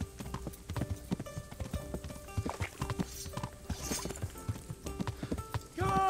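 Horse hooves clip-clopping in the medieval video game Kingdom Come: Deliverance, a rapid uneven trot of hoof strikes with creaking tack and jingling harness, mid-distance, and a brief whinny-like tone near the end.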